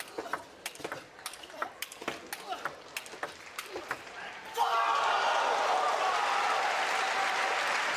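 Table tennis rally of quick sharp ball strikes bounces clearly at a pro match, then a crowd bursts into sustained loud applause and cheering that fills the arena.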